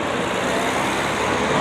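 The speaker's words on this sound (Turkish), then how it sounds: "vızır vızır bir trafik." Busy town-square road traffic, a dense, continuous wash of engines and tyre noise from cars, trucks and buses, steady and fairly close with no talk.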